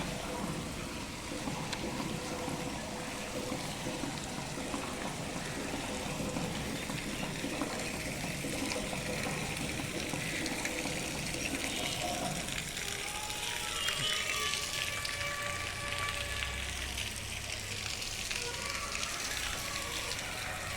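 Waterfall at a Venkateswara Swamy temple, water pouring in a steady broadband rush that stays close and continuous throughout, with no talk over it.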